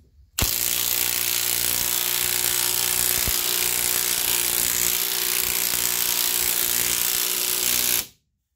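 Lisle 22800 wheel stud installer being tightened down to seat a wheel stud, giving a steady, loud, continuous mechanical whirring grind with a sharp click near the start, running alone for about eight seconds before cutting off.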